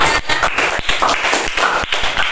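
A classroom of students claps for a group after a presentation in an Indonesian language lesson, a short burst of uneven, close hand claps with slight pauses between clusters.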